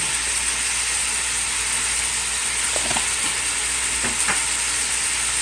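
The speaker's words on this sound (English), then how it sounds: "Stir fry again." Pepper steak made from deli meat stir-frying in a pan, a loud steady sizzle and hiss throughout with a few faint stirring scrapes near the end.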